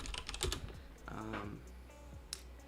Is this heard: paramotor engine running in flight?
no